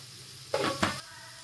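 Spices and bottle gourd stirred in a hot pan give two short bursts of sizzle and scraping, close and brief, against a quiet background.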